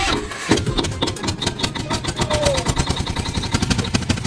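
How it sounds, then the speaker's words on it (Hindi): A small engine starts on a bicycle rigged with a 1200-watt motor, settling into a fast, steady, close putter with a rhythmic pulse. "मैंने अपने 1200 वाट के करंट को अपने साइकिल में जोड़ के इंजन स्टार्ट कर दिया"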